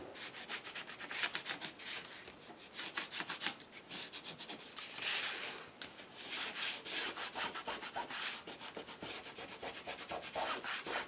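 A Stabilo pencil rubs along the straight edges of watercolor paper strips in repeated close scratchy strokes, a steady dry rasping that swells and fades with each pass, with no voices.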